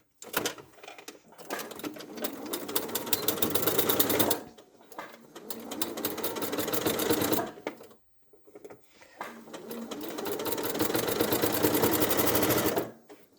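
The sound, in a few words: sewing machine stitching a teddy bear's foot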